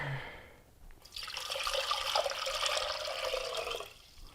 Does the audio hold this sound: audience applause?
no